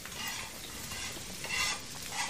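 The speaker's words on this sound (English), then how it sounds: "add the spinach to the frying pan." Fresh spinach fries with soft golden onions in a frying pan over lowered heat, a steady hissing sizzle with gentle stirring scrapes, close and continuous with no talk.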